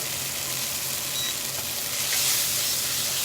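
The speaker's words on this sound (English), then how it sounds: "So I'm going to cook these down until they disintegrate in the oil that is here." Anchovies cook down in oil in a skillet with a soft, steady sizzle and hiss that stays constant and fairly quiet throughout, with no voices.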